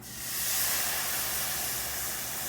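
Wine poured into a hot risotto pan with rice and shallots, sizzling into a loud, steady steamy hiss that swells quickly and holds for a couple of seconds, close up, with no talk.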